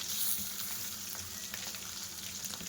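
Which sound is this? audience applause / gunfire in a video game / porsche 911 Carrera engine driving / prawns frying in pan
prawns frying in pan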